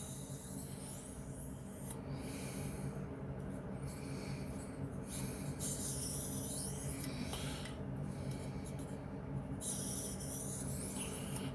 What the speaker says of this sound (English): This silicone carbide cuts this 440C ridiculously fast